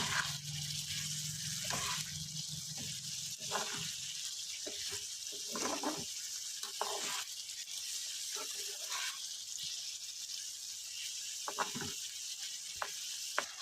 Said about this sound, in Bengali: কাঁচা চিংড়ি মাছ কিছুক্ষণ ফুটিয়ে নেবো, নেড়ে চেড়ে নেবো